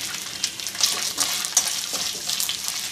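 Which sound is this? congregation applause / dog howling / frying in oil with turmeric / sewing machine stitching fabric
frying in oil with turmeric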